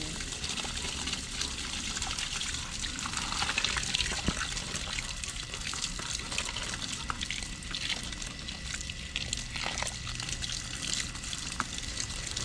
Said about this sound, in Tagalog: lalagyan na natin to ng tubig